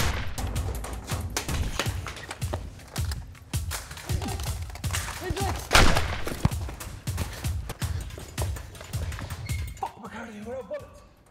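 Sniper gunfire during a tense crime-drama exchange over a cocaine deal: a dense run of sharp, cracking shots and clinks keeps going through the scene, with voices mixed in among the bursts.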